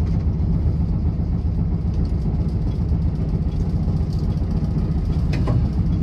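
A 1965 VW Type 2 Splitscreen engine idles with a steady, loud low rumble and even throb, a few faint rattles over the top.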